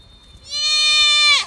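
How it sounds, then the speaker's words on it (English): A baby fainting goat gives a single loud, close bleat that rises sharply and holds a steady wavering pitch for about a second before breaking off. "Yeah, that's a fainting goat"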